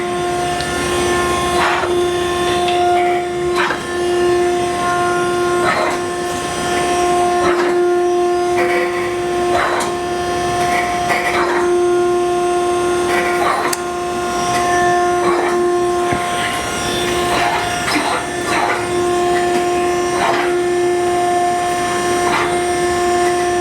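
An Okamoto EX series 20 by 36 inch precision automatic surface grinder runs with a loud steady whine from the wheel, while the table traverses back and forth with rhythmic clunks and scraping at each stroke reversal.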